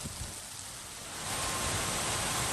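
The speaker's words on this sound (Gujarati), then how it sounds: "જોરદાર આંધી પવન સાથે વરસાદ ખાબક્યો છે" Heavy rain driven by strong wind pours in Nagpur as a dense, steady roar that swells louder halfway through, with no voices.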